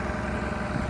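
An IH 1206 tractor engine runs steadily on a dyno, a loud, close, continuous diesel drone with rough low-end rumble and no speech over it.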